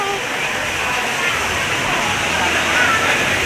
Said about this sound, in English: Nice little waterfall right there.